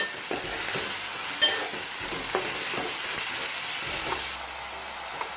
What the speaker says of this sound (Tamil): கொஞ்சம் எண்ணெயில் போடும்போது பார்த்து போடுங்க மேலே தெரிக்கிறதுக்கு வாய்ப்பு இருக்குது